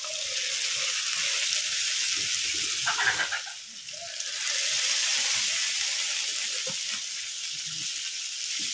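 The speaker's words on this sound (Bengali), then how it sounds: "এবারে যে কাঁকড়ার ঘিলুটা বের করে রেখেছিলাম সেটা দিয়ে দিচ্ছি।" Spiced masala with crab brain stirred in sizzles and hisses loudly and steadily in a pan, with a brief dip midway and a few faint utensil taps underneath.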